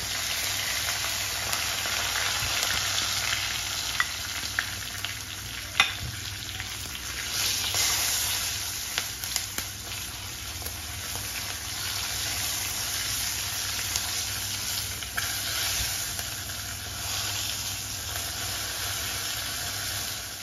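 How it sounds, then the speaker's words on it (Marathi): Spices tempering in two spoons of hot oil in a kadhai for raw mango curry, a steady close sizzle with scattered sharp crackles and pops running throughout. "ही फोडणी तडतडली"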